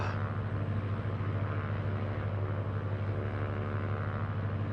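A Cessna Skylane's propeller engine drones steadily at full prop in a flight simulator, a constant loud hum with no break or talk.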